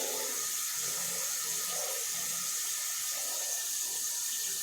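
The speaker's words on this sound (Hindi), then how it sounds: "अभी मैंने पानी चालू कर दिया।" Tap water runs steadily into a wash basin and down its drain, a constant close hiss and gurgle with no talking.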